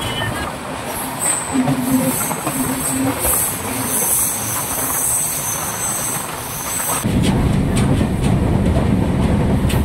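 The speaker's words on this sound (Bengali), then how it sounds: "কাথি ছেড়ে দিল ট্রেন।" The Tamralipta Express rolls from Kanthi toward Ramnagar with a steady rumble of wheels and carriages heard from on board, a faint squeal at times, and the noise swelling louder near the end.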